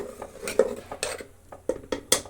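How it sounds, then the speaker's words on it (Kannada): A spoon stirs lentil sambar as it boils in a pot, giving a run of sharp metallic clinks and scrapes against the vessel at an uneven pace, close and fairly loud, with no talking. "ಈಗ ಇದನ್ನು ನಾವು ಕುದಿಸೋಣ ಆಗಾಗ ಕಲಸಿ"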